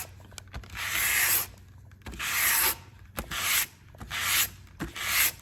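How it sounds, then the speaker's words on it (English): A wooden deck hatch on a Cheoy Lee boat is scratched in a crosshatch pattern, four or five rasping strokes of about a second each with short pauses between, close and fairly loud. "So I like to scratch in a kind of a crosshatch."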